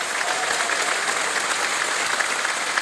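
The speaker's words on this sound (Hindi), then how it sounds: "ताली बज जाए उनके लिए।" Studio audience of the Kaun Banega Crorepati quiz show applauds, a dense, steady clapping that stays loud and close throughout with no voices over it.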